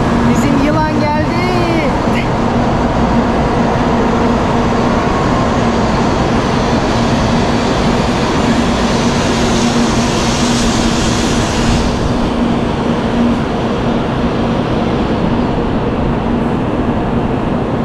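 A Shinkansen bullet train pulls into a station in Japan with a loud, sustained rumble and rushing whoosh that fills the whole stretch, a brief high whine near the start, and voices talking faintly underneath.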